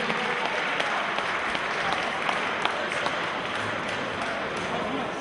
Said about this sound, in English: we have a big round of applause for our two fighters